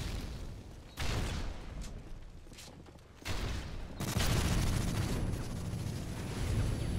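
Repeated heavy booms and bursts of rapid gunfire in a Call of Duty Team Deathmatch game, loud and close, with a dense rumbling barrage building toward the end.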